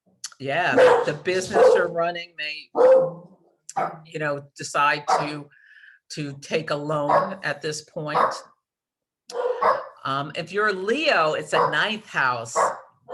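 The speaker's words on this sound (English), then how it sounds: "Apologies for the dogs" Dogs bark and yip in the background, intermittent and moderately close, mixed in with someone speaking steadily about astrology throughout.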